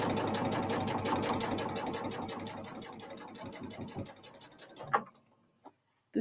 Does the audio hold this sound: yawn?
no